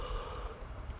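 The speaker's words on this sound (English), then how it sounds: "even though I did yawn" A person gives a single drawn-out, breathy yawn close to the mic, with no other sound around it.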